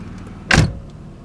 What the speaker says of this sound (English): so if I close the driver's door